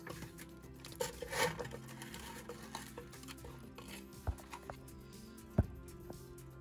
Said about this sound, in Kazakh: Жақсылап араластырып аламыз.